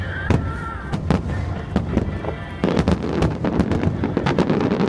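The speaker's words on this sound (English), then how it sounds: "As the fireworks rise into the night sky," Nagaoka fireworks burst in the night sky over Japan in a rapid series of loud, sharp booms and crackles. Some shells land close together and others fall singly over a continuous rumbling background.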